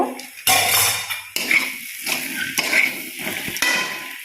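Jackfruit and potato curry cooks with ground spices in a pan, a close, steady sizzle broken by scraping and stirring clatter of a spoon against metal.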